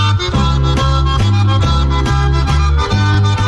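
A short music passage in 3/4 time, loud and steady, with a low bass note and chord stabs repeating in a regular three-beat pulse, no voice.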